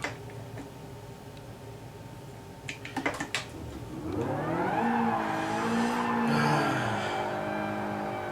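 A car drifts in Gran Turismo Sport, played on a T300RS wheel with PSVR. The engine revs and tires squeal in long, rising and falling sweeps, preceded by a few sharp clicks over a quieter engine drone.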